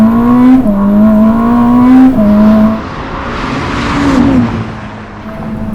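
Ferrari SF90 Stradale, a 986 hp all-wheel-drive hybrid, accelerating hard, its engine note climbing through several upshifts with brief dips between gears, loud and close with no talk over it.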